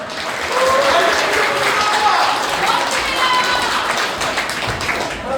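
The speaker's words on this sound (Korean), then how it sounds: "간단한 박수 한 번만 부탁드릴까요" Wedding guests in a convention hall applaud, giving sustained, fairly close clapping that swells quickly and holds for several seconds before easing slightly.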